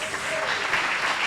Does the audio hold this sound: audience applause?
yes